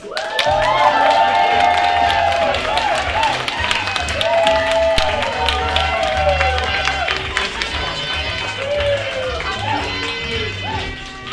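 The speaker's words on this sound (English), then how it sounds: "Can I get a boisterous round of applause for Archie, please?" A pub crowd at a poetry slam gives loud, boisterous applause with cheers and whoops for an open-mic poet, sustained and dense over background music before slowly easing off.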